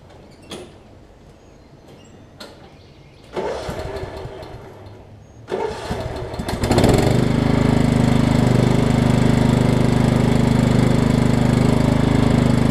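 Kohler Command engine on a Craftsman riding mower whose deck belt was too tight: a few creaks and clunks, then cranking, and at about seven seconds the engine catches and settles into a loud, steady idle.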